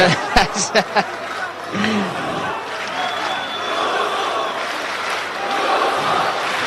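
A live MMA event crowd at ACB 67 roars and applauds steadily, a broad, dense wash of cheering from a packed arena that rises and holds after a few sharp claps near the start.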